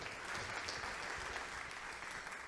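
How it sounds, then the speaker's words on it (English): A crowd applauds steadily, dense clapping filling the room at moderate volume without a break. "Let's give them another big round of applause"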